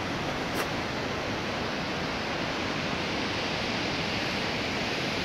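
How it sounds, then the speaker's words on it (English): A steady, dense rush of falling water from waterfalls on a glacier hike in New Zealand fills the air, constant and loud with no breaks. "waterfalls pretty much everywhere you're at"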